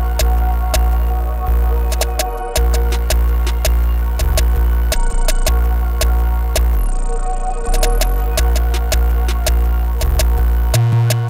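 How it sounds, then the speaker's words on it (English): An 808 bass pattern from the Abduction drum kit in a hoodtrap beat, loud booming sustained low notes that change pitch and slide, with melodic layers and steady ticking percussion above, continuing without talk. "we are grabbing a different 808 from the Abduction drum kit"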